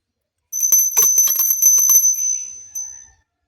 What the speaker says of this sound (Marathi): ही घंटी